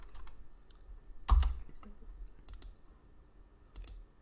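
A computer keyboard is typed on in short, sparse bursts of clicking at close range, with one louder clustered strike near the start and a few lighter taps after, with faint background hum and no talking.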